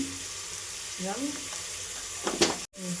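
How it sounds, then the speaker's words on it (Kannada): Onions with turmeric powder fry in oil as the base for mutton chops, giving a steady sizzle under a brief murmur of voice, with a short clatter near the end. "ಚೆನ್ನಾಗಿ ಫ್ರೈ ಆಗಿದೆ ಸ್ವಲ್ಪ."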